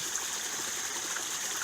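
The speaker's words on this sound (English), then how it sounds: "Picking up the clean water off the top into the sump area to be pumped to the top of the waterfall." Water cascading down a garden pond waterfall fed by a pump from a sump in a food forest, a steady, even rushing and splashing that stays constant throughout at moderate level.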